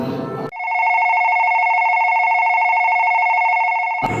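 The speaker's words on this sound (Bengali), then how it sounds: "কি গো ফোন ধরছো না কেন" A telephone rings with a steady electronic tone, loud and close, for about three and a half seconds without a break; no one speaks over it.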